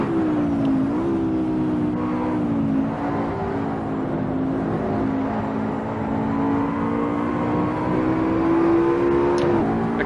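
A McLaren race car engine in Assetto Corsa, racing at Monza, holds a steady high drone on a straight, loud and close, with a brief dip and rise in pitch as it shifts gears.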